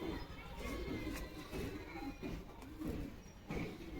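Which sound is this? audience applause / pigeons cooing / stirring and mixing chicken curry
pigeons cooing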